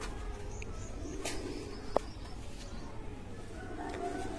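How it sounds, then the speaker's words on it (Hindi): An old pigeon in a loft coos in low, faint murmurs against a quiet background, with one sharp click partway through. "ये हमारा बड़ा पुराना कबूतर है"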